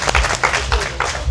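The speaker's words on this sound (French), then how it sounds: "Vous pouvez applaudir l'équipe de Méléo." Applause for a team at a French gathering of riders, a short burst of clapping from a crowd with faint voices mixed in.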